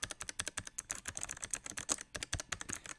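Rapid typing on a clicky mechanical keyboard, close and bright, with a steady run of sharp key clacks at an even pace and no voices.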